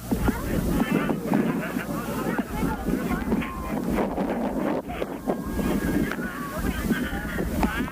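Strong wind buffets the microphone continuously at a 1976 outdoor high school football game between Hillcrest and Ulen-Hitterdal, a loud low rumble running throughout with a voice talking over it.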